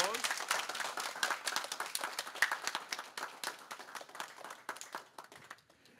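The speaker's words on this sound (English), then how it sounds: "if we could have one more round of applause." Audience applause at the close of a panel session at a conference, a scattered round of claps with a murmur of voices underneath, tapering off toward the end.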